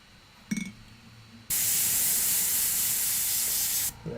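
An airbrush sprays paint onto a Warhammer 40k Dark Eldar Hellions miniature, a steady close hiss lasting about two and a half seconds after a brief clink, then cutting off.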